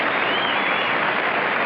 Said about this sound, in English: listen to these fans applauding